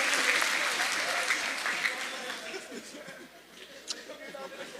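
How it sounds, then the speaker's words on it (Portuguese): Church congregation applauding for the keyboardist, dense clapping that is loudest at the start and gradually thins and fades, with some chatter mixed in. "Uma salva de palmas para o nosso"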